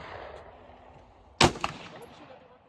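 Gunshots crack at a gun range: one sharp, close report stands out after a stretch of quieter background, followed by a fainter echo and another shot at the end.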